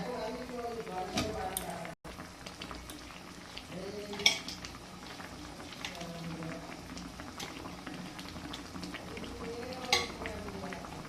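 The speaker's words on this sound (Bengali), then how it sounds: "এবারে মাছ দিয়ে দিচ্ছি" Datina fish pieces dropped into a pan of bubbling curry broth with peas and raw banana, a steady simmering bubble with a few brief clinks and splashes, under a voice talking throughout.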